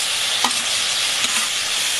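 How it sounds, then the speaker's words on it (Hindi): Tomatoes go into a pan of frying onions, giving a steady loud sizzle with a couple of faint stirring scrapes and no voices. "प्याज हो चुका है, अब हम इसमें डालेंगे टमाटर"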